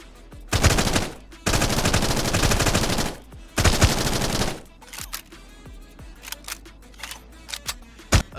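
Bursts of rapid automatic P90 fire in a multiplayer first-person shooter: three loud, sustained volleys followed by scattered single clicks and short shots, with no voices.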